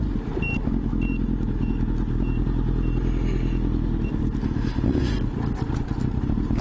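Motorcycle riding along a road, with a steady engine drone and rushing wind noise at a constant level throughout.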